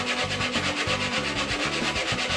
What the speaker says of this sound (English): sand the sheath.